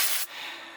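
Non-chlorinated brake cleaner spraying from an aerosol can during detailing of an Audi Q5, a loud, bright hiss that cuts off sharply after a quarter second, followed by a softer lingering hiss.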